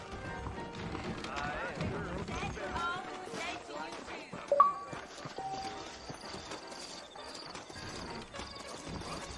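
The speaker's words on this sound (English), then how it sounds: "I got the horses saddled up and ready out front." Horses' hooves clip-clop and run in the Western video game Red Dead Redemption, moderately loud hoofbeats with a brief sharp sound midway and game character voices speaking around them.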